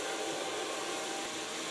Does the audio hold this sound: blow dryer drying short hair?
yes